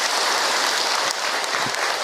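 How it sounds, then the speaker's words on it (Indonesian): Dense, steady applause from an audience at an Islamic religious lecture, loud and close, filling the whole moment with no voices over it. "Tepuk tangan buat kita semua."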